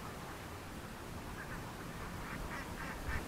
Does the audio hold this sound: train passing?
no